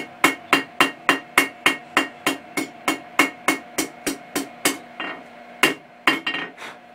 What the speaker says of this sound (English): I'm hitting different angles with the hammer